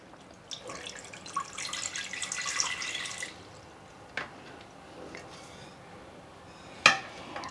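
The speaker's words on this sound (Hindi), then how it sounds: "सबसे पहले हम एक कुकर ले लेंगे, डालेंगे इसमें करीब 1/2 कप पानी।" Water is poured into a pressure cooker, a broad splashing rush running for roughly three seconds before it stops, followed by a couple of sharp metallic clinks of the pot, with no talking.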